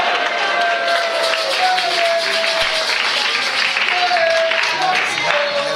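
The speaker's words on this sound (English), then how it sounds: "I want you to give another clap." A church congregation claps at length, a dense, steady wash of many hands with crowd murmur and voices mixed in throughout.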